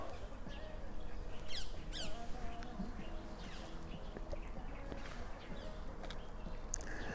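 Outdoors, a bird gives several brief, scattered squawks and chirps against a busy, noisy background of wind and rustling. The calls are moderately faint and spread unevenly through the stretch.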